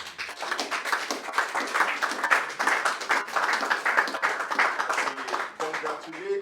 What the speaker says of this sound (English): I also want to request that we give a round of applause to those we have elected